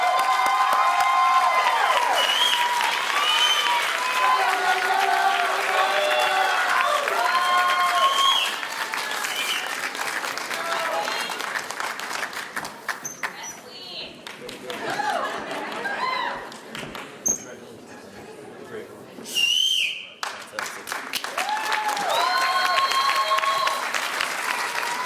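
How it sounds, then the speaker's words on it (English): Graduation audience applauding a degree recipient, with sustained clapping and some cheering; the applause thins and breaks up midway, then swells again toward the end, with voices and shouts mixed in. "Please give another wonderful round of applause for Ms."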